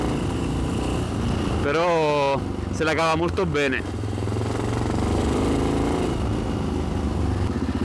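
Exhaust note of a vintage Yamaha XT 600 enduro motorcycle ridden on the winding Amalfi Coast roads, a steady single-cylinder drone with rising revs, under someone talking close by.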